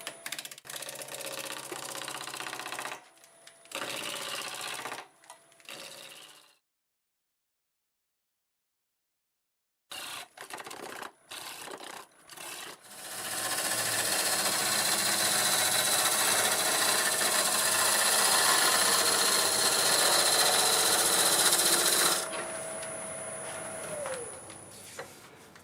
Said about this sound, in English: I'll just take my roughing gouge here, my spindle roughing gouge, and we will get it trued up